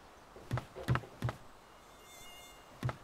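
A thin, faint mosquito whine from the survival game DayZ hovers in the background, broken by several sharp, close taps or knocks at uneven intervals.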